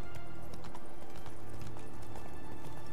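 Roach, Geralt's horse in The Witcher 3, gallops with steady, close clip-clop hoofbeats over a low rumbling game soundscape, with a brief whinny mixed in.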